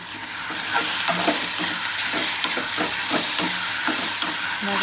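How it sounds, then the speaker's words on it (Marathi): Mashed brinjal bharit mixture stirred in a hot pan: rhythmic scraping strokes of a spoon over a steady sizzle, close and continuous. "वांग्याचं भरीत टाकून घेऊया आणि सर्व मिश्रण एकत्रित करून घेऊया"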